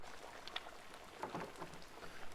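Steady rain falls in the medieval-village video game Pentiment, a soft, continuous patter with scattered droplet ticks and no voices over it.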